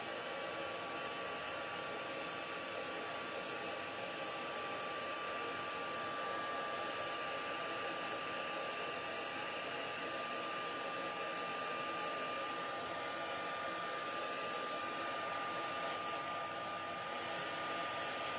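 An electric heat tool blows hot air onto a stamped craft card project, making a constant, loud whirring hiss that runs unbroken from start to finish with no talking.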